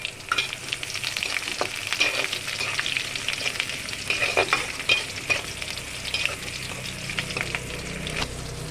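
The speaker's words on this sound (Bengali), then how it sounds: "জিরে তেজপাতা এগুলো ফোড়নে দিয়েছি। এবার দেবো একটু পেঁয়াজ। ফোড়নটা ভালো মতন একটু করে নিতে হবে" Onion frying in oil tempered with cumin and bay leaf, a bright continuous sizzle broken by repeated scraping strokes of a spoon against the pan, close and with no voices.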